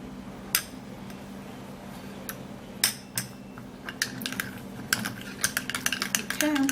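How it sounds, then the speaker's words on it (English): A spoon stirs an orange peel face mask paste in a small bowl, giving scattered clicks and scrapes that grow busier toward the end over a steady low room hum. "I'm still going to continue mixing this up."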